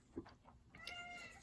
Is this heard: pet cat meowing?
yes